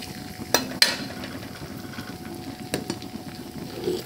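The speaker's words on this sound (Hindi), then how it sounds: "ये हमारा तेल गरम हो चुका है, इसमें अब हम डालते हैं जीरा मिर्चा" Cumin seeds and chillies hit hot oil in a home kitchen pan, giving a soft steady sizzle with a couple of sharp crackling pops near the start and another later, no talking.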